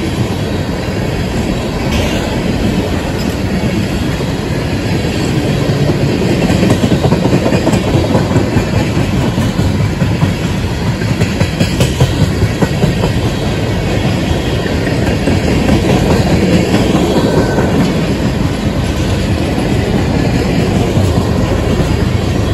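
A Norfolk Southern freight train led by an ES44AH locomotive, with a Canadian Pacific hopper right behind, rolls steadily past close by, wheels clattering continuously over rail joints for the whole stretch.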